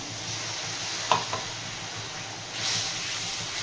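Spice paste fries in a pan for a vegetable dish with split-pea fritters and potatoes, giving a steady sizzling hiss with a couple of brief spatula knocks and a louder surge near the end.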